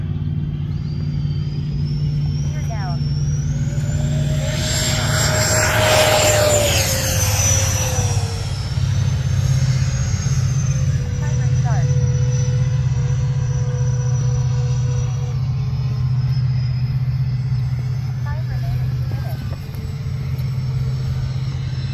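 An FMS F-86 80mm RC ducted-fan jet makes a touch and go, its turbine whine rising and falling as it passes near and climbs away over a steady low rumble, with no talk.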